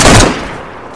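A loud gunshot in the DayZ video game on PS4, a single close blast with a short rumbling tail that fades over about a second, no voices over it.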